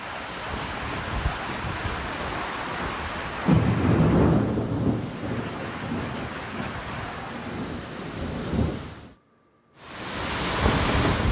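An unseasonal thunderstorm with rain and hail in Yeola, Nashik district, damaging onion crops: dense rain noise with a loud thunder rumble partway through, then a brief cut to silence before the downpour resumes.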